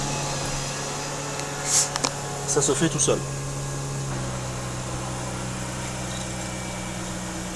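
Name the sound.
Mazda RX-8 engine starting and idling cold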